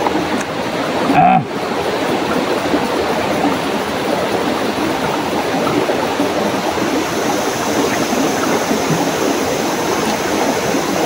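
A deep river flowing steadily, a constant broadband rush of water heard close and loud throughout, with a brief knock near the start and no talking.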